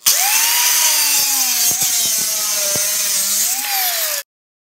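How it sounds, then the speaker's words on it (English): An angle grinder cuts an LED shower head in half with a loud, close, continuous high whine and grinding rasp whose pitch sags and rises as the blade bites, then stops abruptly. "let's get the old angle grinder out and cut it in half to reveal the rest of the mechanism"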